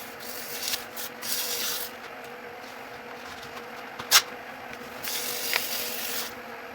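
A wooden mushroom-shaped pepper grinder with a Crush Grind insert being hand-sanded with 800 grit sandpaper, giving soft intermittent rubbing bursts, close and fairly quiet, with a sharp tap partway through and no talking.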